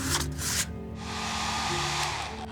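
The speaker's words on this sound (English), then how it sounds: "I'm using the hairdryer to speed the drying process along." A hair dryer blows on a wet cardboard blue whale model, its whooshing airflow loud and close, rising and easing as it is moved around, with no voices.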